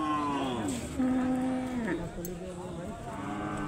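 A cow at a cattle sale gives a single drawn-out, low moo, near and moderately loud over steady outdoor background noise.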